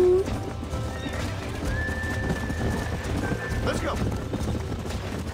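In the Red Dead Redemption video game, a horse whinnies and its hooves clip-clop steadily beneath loud game ambience, while a voice speaks briefly over it.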